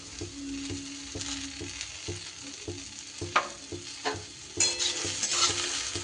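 Moringa drumsticks tossed with fried sesame and poppy seeds in a pan give repeated rhythmic scraping stir strokes over a light, continuous sizzle, closer and louder toward the end.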